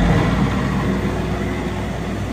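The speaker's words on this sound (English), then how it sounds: "There she's revved up." 2016 Multiquip Whisperwatt DCA25SSIU4F diesel generator revved up, a steady loud engine drone held at high speed close by, with no talking.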